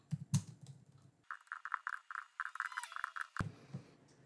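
Typing serial numbers on a computer keyboard, a quick run of light rhythmic key clicks up close, preceded by a few louder knocks and some handling noise.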